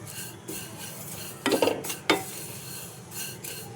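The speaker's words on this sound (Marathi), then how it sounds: "मी आधी अशी सुकीच फ्राय करून घेते" Dry vermicelli for shevai kheer being roasted in a pan without ghee, with soft scraping stirs and a few louder clinks of the spoon against the pan over a low background hiss.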